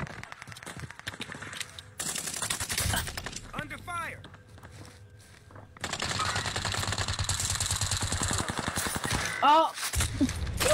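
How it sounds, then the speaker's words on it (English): Gunfire in a Call of Duty match, rapid bursts of automatic shots and sharp impacts with glassy shattering, loud and close, under a player's excited talk. "Don't you fucking be shooting at me."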